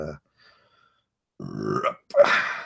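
A man's burp lands mid-monologue, a short guttural belch with a harsh, noisy tail, heard close and loud after a brief pause.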